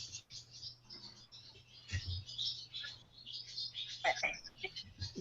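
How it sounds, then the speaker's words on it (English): Swallows chirp and twitter near their nest in quick, bright bursts close by, with a low steady hum running underneath. "It sounds like they're birds chatting with us."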